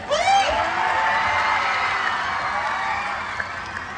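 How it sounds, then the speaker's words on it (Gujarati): Crowd at a Ganesh aarti gathering in New Vastral, Ahmedabad, bursting into loud, sustained applause with whoops and cheers honouring the Shri Adya Shakti Mitra Mandal organisers, the noise holding steady for several seconds. "ખાસ શ્રી આદ્ય શક્તિ મિત્ર મંડળ માટે જોરદાર તાળી થઈ જાય"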